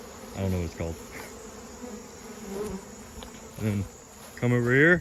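Bees buzz steadily around a beekeeper at the hive, a close, continuous drone running under bursts of someone talking.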